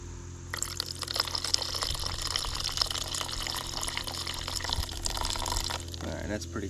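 Old gasoline being flushed out of a power trowel pours and trickles steadily, a continuous liquid splash under a low engine-like hum, with a voice briefly present.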